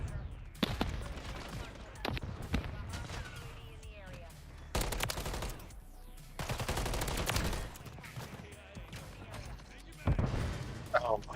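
Shotgun blasts in a Call of Duty match ring out as a series of sharp, loud bursts spread over several seconds, mixed with in-game noise and a voice talking.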